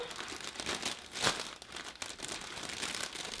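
Wrapping for a Christmas gift basket is folded and taped, giving continuous close crinkling and crumpling with a sharper rustle in the middle.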